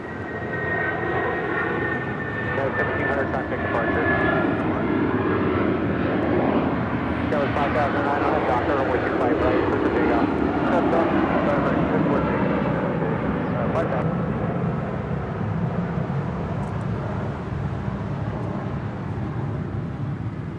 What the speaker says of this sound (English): That was United Airlines flight 1700 heading to